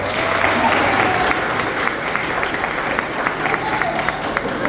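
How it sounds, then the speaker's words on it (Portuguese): Audience applause at a religious gathering, a dense, steady wash of many clapping hands with distinct claps popping out, loud and sustained throughout. "Que bom, salve de palmas."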